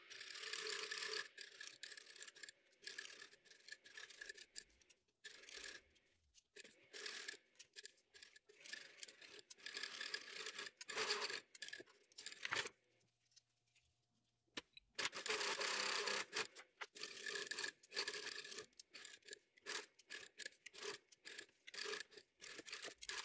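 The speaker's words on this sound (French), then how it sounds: "Prochaine étape, la couture machine." A sewing machine stitches a bow tie in quick mechanical bursts of rapid clicking, stopping briefly and starting again. Quiet and close, with a longer pause midway.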